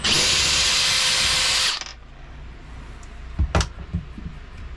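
A power drill backs screws out of a Sirocco fan panel: a loud, close whir lasting under two seconds, then quiet handling with a few brief clicks and knocks.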